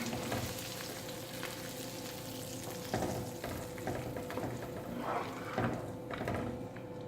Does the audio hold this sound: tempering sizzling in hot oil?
yes